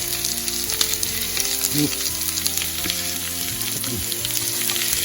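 Potatoes and eggs frying together in a pan, a continuous close sizzle broken by a few soft scrapes and bumps as pieces are turned over.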